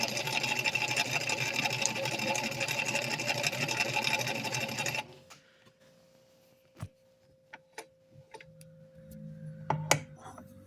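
A vintage sewing machine, still slightly stiff, whirs steadily for about five seconds, then stops; a few faint clicks and a brief low hum follow in near quiet.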